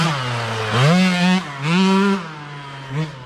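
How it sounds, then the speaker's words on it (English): A KTM 65 dirt bike ridden by a young rider, its small two-stroke engine buzzing close by and revving up and down in repeated surges as it passes. "We picked up a new KTM 65 for Cooper last night."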